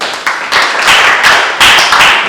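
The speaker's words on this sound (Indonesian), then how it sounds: "Kasih tepuk tangan dulu" A school class claps hands during a lesson, a loud, dense burst of applause that keeps going steadily for a couple of seconds.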